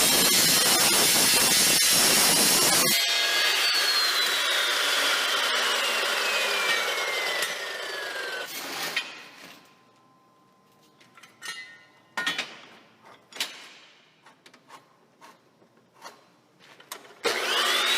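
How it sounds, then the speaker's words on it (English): A cold saw cuts metal framework pieces, a loud continuous grinding whine with a falling tone that runs for several seconds, then stops and gives way to scattered clanks and handling of the metal. "I took some measurements and went to the cold saw and made my cut."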